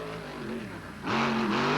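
A PENDA series race truck engine runs at full throttle, droning steadily before surging louder and harsher as it pulls hard, close and alone with no voices.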